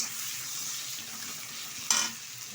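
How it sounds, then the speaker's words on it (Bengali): Thinly sliced tomato is stirred into fried onions in a pan, giving a soft, steady sizzle with faint scraping and one brief louder clatter of utensil against the pan. "টমেটোটা পেঁয়াজের সাথে একটু নাড়িয়ে নিচ্ছি।"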